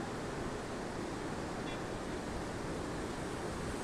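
Water roars from the open gates of Stanley Dam at Mettur, a steady dense wash of rushing noise heard at a distance, even and unbroken, with no voices.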